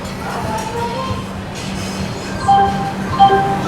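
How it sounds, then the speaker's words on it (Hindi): The 12615 Grand Trunk Express rolls along just after leaving Nagpur Junction, heard from inside the coach as a steady rumble with tonal squeals and a few clanks and thumps. "अपना डिपार्चर हो चुका है नागपुर जंक्शन से अपनी ग्रैंड ट्रंक एक्सप्रेस का"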